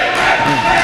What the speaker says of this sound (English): We got the Ray chant.